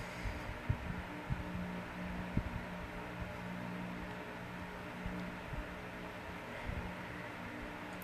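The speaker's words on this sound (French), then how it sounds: "J'espère que vous entendez pas trop le ventilo, mais c'est intenable." An electric fan runs in a hot room, giving a steady broadband whir and low hum throughout, with a few soft thumps on top and no talking.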